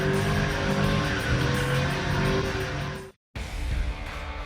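A stock Chevrolet Trailblazer SS drifts with its tires squealing loudly and steadily over a revving engine, cut by a brief gap before the screech resumes.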